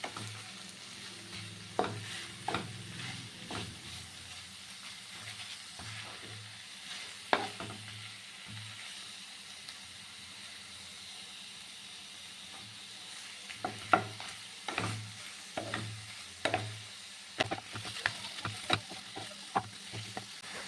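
Shredded cabbage is stirred through fish head and spices in a pan. A quiet, low sizzle runs throughout, broken by intermittent scraping and clacking strokes of a spatula that come in uneven bursts.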